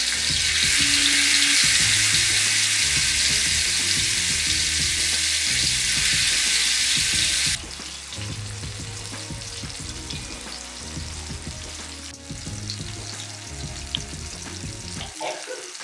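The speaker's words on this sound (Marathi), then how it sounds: "मी इथे शॅलो फ्राय करत आहे" Mutton chops shallow frying in oil in a pan, giving a steady loud sizzle that drops to a quieter crackle partway through, with soft clinks of cookware and stirring underneath.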